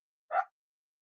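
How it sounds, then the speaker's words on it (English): A single short bark from a pet dog indoors at home, fairly close and moderately loud, standing alone against silence. "happens every time I do a live in the house. The dogs go mad."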